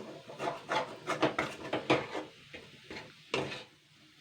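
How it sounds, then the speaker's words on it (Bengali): Fish roe cooking in oil in a pan, stirred with a rapid run of close scraping, rubbing strokes of a spatula against the pan, loud and uneven. "এইভাবে নাড়াচাড়া করে নিতে হবে কিন্তু"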